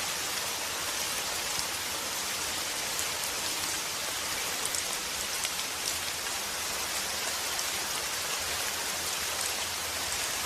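Steady, dense rain pours without a break from a played video, a constant hiss of drops on surfaces that stays even and fairly loud throughout.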